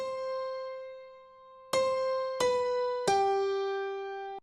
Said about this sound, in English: So now the piano sounds like this.